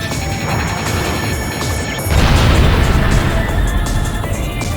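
Missiles fired and blasting through a wall deep inside an enemy missile silo in a video game: dense, loud crashing and booming that swells sharply partway through and stays heavy to the end.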